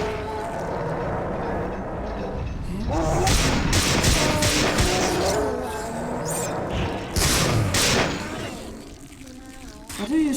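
Gunfire from System Shock 2, a run of thudding shots and booms over busy game sound, with a voice talking at times.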